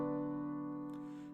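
Sustained chord, likely piano, held steadily and then shifting to a second chord near the end, a move from the seven chord to the six that feels unresolved; clean and close with no voices.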